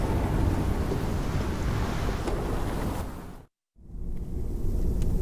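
Loud, steady storm roar with rumbling thunder and rushing wind used as an audiobook sound effect, continuous and dense before cutting briefly to silence and then surging back at full strength.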